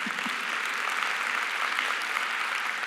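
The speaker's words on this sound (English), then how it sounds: "You can clap for that." An audience claps steadily for a few seconds, a dense, even patter of many hands.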